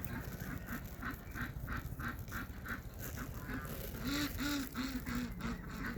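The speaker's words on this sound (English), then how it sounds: "my ducks are really noisy right now." A flock of noisy domestic ducks quacks in a steady, repeated chorus of rhythmic calls, moderately close and sustained throughout.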